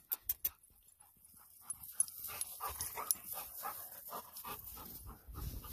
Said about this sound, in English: There comes Suki the dog